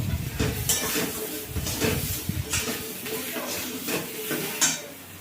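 Potato chunks and papaya tipped into a pan of frying pointed gourd, with clattering pieces, spoon scrapes and a crackling sizzle close by, and a voice faintly underneath.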